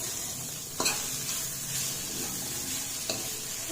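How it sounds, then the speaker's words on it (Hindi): Onion, carrot and cauliflower sauté in a pan with a steady sizzle, while a couple of sharp spatula scrapes and knocks cut through at intervals; no voices. "इस तरह से हम इसको सौते करेंगे तो कैरेट और कॉलीफ्लावर अपना जो जूस छोड़ेगा"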